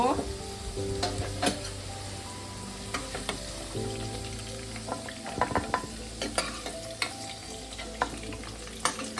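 Fried potatoes are scooped from hot oil with a steady sizzle and repeated metallic clinks and scrapes of a utensil against the pan, close and fairly busy throughout.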